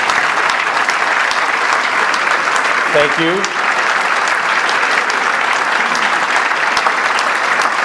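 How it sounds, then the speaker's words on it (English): Sustained audience applause fills a police awards luncheon, a steady wash of many hands clapping throughout, with a voice briefly speaking over it. "would you all please stand up so we can clap for you"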